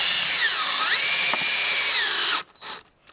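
A power drill runs loud and close as it drives a screw into a window flange, its whine steady and then sliding down and back up under load, before cutting off into a few brief clicks and bursts.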